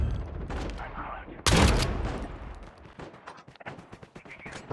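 Video-game gunfire opens with a loud, sudden volley, followed by scattered lighter shots and rattling bursts fading into the background.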